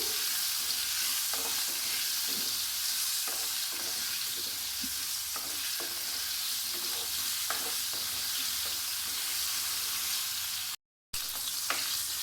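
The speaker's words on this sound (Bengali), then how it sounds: "নুন হলুদ দিয়ে পটল প্রথমে ভেজে নিচ্ছি।" Pointed gourd (potol) slices frying in oil with salt and turmeric give a steady, close sizzle, with soft clicks and scrapes from a spatula stirring the pan throughout; no one speaks.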